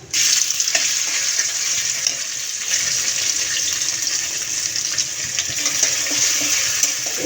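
Onion paste sizzles in oil with a steady, close hiss, joined by occasional soft stirring sounds.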